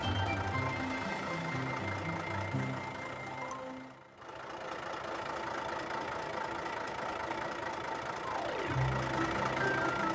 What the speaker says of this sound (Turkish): Büyük kamyon şimdi gidebilir.